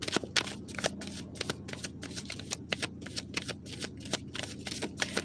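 A deck of cards being shuffled close up, with a run of quick riffling bursts and soft snaps repeating over several seconds, no voices.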